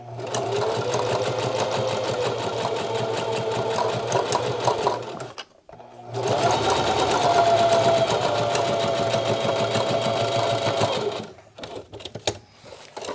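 A sewing machine back stitching and then running along a rolled hem seam on a sling crossbody bag, a steady close rapid whir that pauses briefly and resumes, then stops with a few clicks, no talk.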